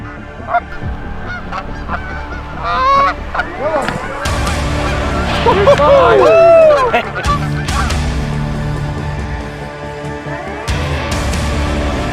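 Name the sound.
flock of geese honking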